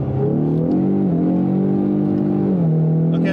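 A car launched from a first-gear roll on fresh NGK ruthenium spark plugs, its engine revving loud and steady with wheels spinning, the pitch climbing, dipping briefly, then holding a sustained high drone with no talking.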